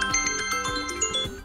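An iPad ringtone preview plays as the ringtone volume is adjusted, a bright repeating chime-like melody with a steady rhythm, close and clear.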